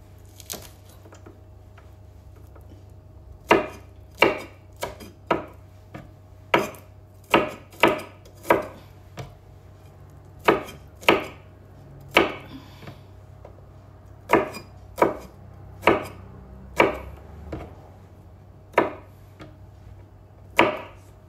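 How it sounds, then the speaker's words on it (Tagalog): Garlic being chopped on a board with a knife, a long run of crisp, close chops in uneven bursts with short pauses, alone with no talk. "Pilitan natin paghiwa yung mga bawang para malasa"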